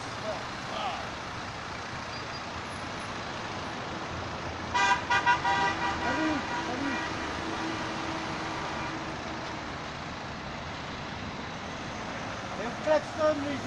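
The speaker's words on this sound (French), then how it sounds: "Et on klaxonne les gens, on klaxonne." Car horns toot in brief bursts amid steady traffic at a roundabout in Cannes, with a cluster of honks in the middle and a couple more near the end, while people talk nearby.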